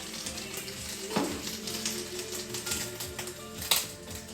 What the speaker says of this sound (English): that's the oil frothing up.